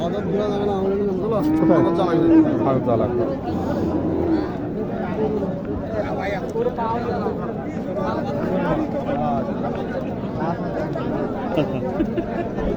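Dairy cows low now and then amid a busy livestock market at Chhatra haat, with a crowd chattering and talking steadily throughout.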